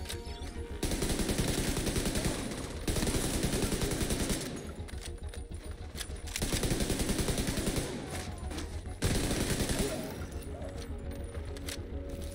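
Automatic assault rifle fire in The Division 2 comes in long sustained bursts separated by short pauses, loud and close, with faint game sounds between volleys.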